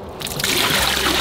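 Water trickles and splashes out of a leaking, unsealed 3D-printed toilet tank, a steady close liquid dribble that grows louder partway through and continues alone.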